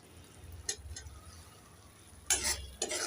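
Tomato being stirred into a Bengali fish curry masala in a pan: faint, soft scraping and a low sizzle, with two brief bursts of spoon scraping against the pan.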